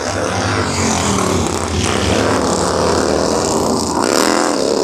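Racing motorcycles at the Burt Munro Challenge in Invercargill, New Zealand, roar past together in a loud, continuous engine drone that swells and shifts in pitch as the pack moves through.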